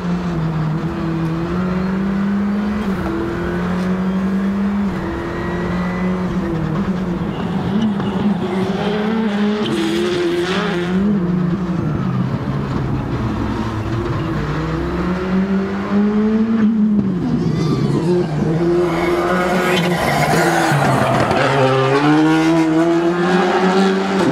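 A race car engine revs hard and roars steadily and loudly throughout, its pitch rising and falling with acceleration, with occasional tire squeal and no talk.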